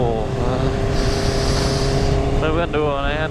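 A 2021 Honda CBR650R rides in cold weather, its engine droning steadily under loud wind rush, with the engine note rising toward the end.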